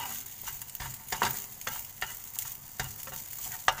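Rice is stir-fried with Thai chili paste in a pan: a soft, steady sizzle under repeated rhythmic scraping strokes of a spatula, close and fairly quiet, with no talking.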